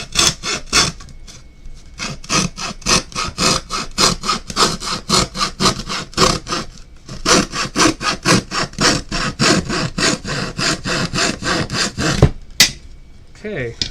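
A hand saw cuts through wood indoors in fast, rhythmic back-and-forth strokes, loud and close, with a brief pause partway through before it finishes.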